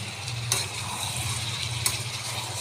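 Mutton being cooked down in a pot, stirred with a spoon under a low steady sizzle, with a couple of brief scraping knocks against the pot.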